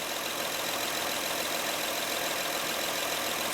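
A Honda Pilot engine idles with a defective alternator, giving a steady, even mechanical hum that holds close and constant throughout with no voices.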